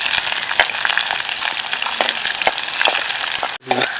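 Four green chillies frying loudly in hot oil while being stirred in a pan, a dense continuous sizzle with scraping strokes and a brief clatter near the end.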